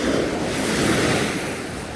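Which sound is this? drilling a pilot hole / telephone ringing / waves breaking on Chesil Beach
waves breaking on Chesil Beach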